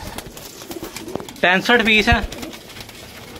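Pigeons coo at a bird market in Lahore, Pakistan, with one clear, close burst of several throaty coos in the middle while someone talks nearby amid background bustle.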